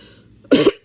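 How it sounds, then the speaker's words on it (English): A single short, harsh cough, close and loud, after a moment of quiet. "excuse me about this cough"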